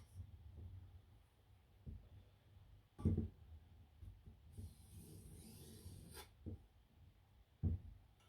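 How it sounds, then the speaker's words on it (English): Quiet, scattered scrapes and soft knocks come from deburring a knife edge with sideways swipes on an Edge Pro Apex sharpener, a few brief rasping strokes and light taps spread out with pauses between them. "Now I'm gonna deburr, just doing a sideways swipe."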